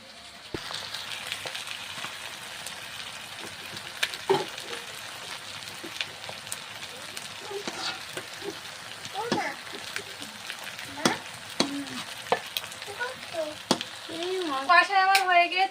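Chicken meat sizzles and fries in a pan as it is stirred, a steady close crackle with occasional scraping clinks from a utensil and brief bursts of talk over it.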